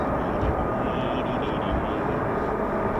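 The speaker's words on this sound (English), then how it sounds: "Listen to the F-35s." F-35B stealth fighter jets with 809 Naval Air Squadron and 617 and 207 Squadrons make a steady, loud broadband roar that stays unbroken throughout.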